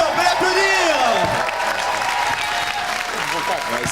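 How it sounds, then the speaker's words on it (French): A studio audience applauds the comedian Dieudonné, with loud, full clapping mixed with a few cheers and whoops while a voice speaks over it. "Vous l'avez reconnu, on peut l'applaudir."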